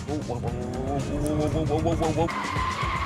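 Tyres squeal and skid in a wavering, pitch-sliding screech as a hot hatchback spins backwards during an auto test, followed by engine noise, with voices over the top.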